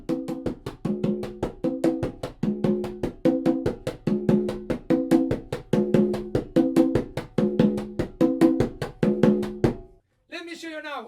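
Fast single-double hand strokes on a tumbadora conga drum ring out in a quick, driving pattern of crisp slaps and open tones, played up close, followed by a short spoken phrase.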